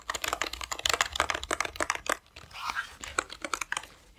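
Rapid keystrokes clatter on a multimedia computer keyboard with built-in media keys, a quick irregular run of close, crisp clicks with a brief pause midway before the typing resumes.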